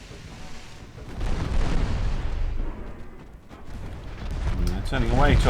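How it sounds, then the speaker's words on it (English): Torpedoes and then ammunition detonate aboard a ship in a naval video game, producing a rolling series of heavy booms and rumbling blasts that swell, dip, then surge louder again, with a voice talking over them. "Oh, their own torpedoes explode. Oh, and then their ammunition explodes."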